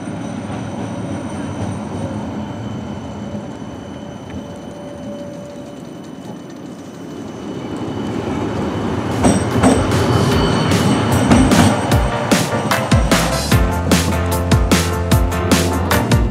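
A West Midlands Metro tram on the extension to Wolverhampton Station arrives and runs past. There is a steady low rumble at first, then a louder clattering, clicking passage with wheel squeal, building in strength as it nears.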